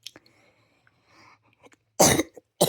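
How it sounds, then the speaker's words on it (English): Two loud, close coughs in quick succession follow a stretch of near silence with faint small noises, indoors beside weather radios awaiting a weekly test alert. "Sorry, mild cough."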